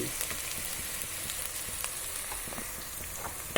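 Onions fry in a pan as they are stirred, a soft, even sizzling hiss with light, crackly spatter and a few faint utensil taps, fairly quiet and with no talk.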